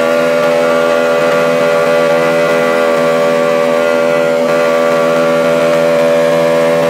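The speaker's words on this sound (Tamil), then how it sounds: "இந்த பல்சர் இன்ஜின் பைக்கில் இருந்தப்போ கூட இந்தளவுக்கு ஃபுல் த்ராட்டிலில் வந்து ஓடி இருந்திருக்காது" A Bajaj Pulsar motorcycle engine fitted to a homemade fiber boat runs at full throttle, a loud, steady, high-pitched buzzing drone that holds constant throughout with no speech.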